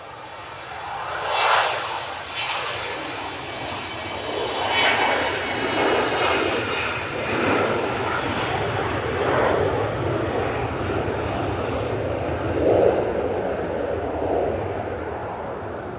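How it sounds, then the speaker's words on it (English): A Cessna Citation business jet departing Manchester Airport, a whining jet roar with a high-pitched tone slowly falling in pitch as it passes, broad surging swells of rumble heard from moderate distance. "Snazzy looking Cessna Citation is off to Nantes."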